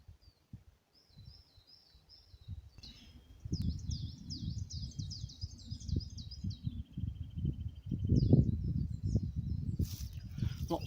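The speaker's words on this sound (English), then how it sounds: "Lots of bird song today." Birdsong in Sherwood Forest, where chiffchaff and other species are calling: several bright chirping phrases from the trees, fairly faint, over rustling and footstep-like noise close by.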